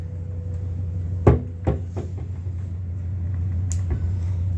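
A few wooden drawer thuds and slides in a cruise ship cabin, one sharper knock then softer bumps, close by over a steady low hum.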